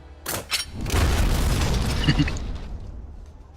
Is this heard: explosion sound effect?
yes